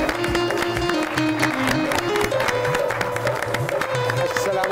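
A studio audience on the talk show G Sarkar with Nauman Ijaz claps in a dense, steady patter to welcome guest Bushra Anjum Butt. The applause stays loud and continuous throughout, over tonal music in the background.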